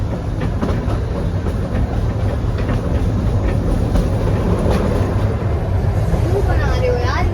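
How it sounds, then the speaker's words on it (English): A narrow-gauge toy train on the Kalka–Shimla line rumbles along steadily with a continuous rolling clatter of wheels on track, loud and close, with faint voices in the background. "Welcome to the Shimla toy train."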